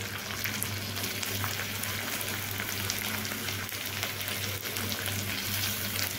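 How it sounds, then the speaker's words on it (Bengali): Triangle-cut onions and capsicum frying in a pan for a green plantain recipe, a continuous close sizzle with faint stirring and no talking. "ভালো করে আমি এই সবগুলোকে এইভাবে এখন মিশিয়ে ভেজে নেব"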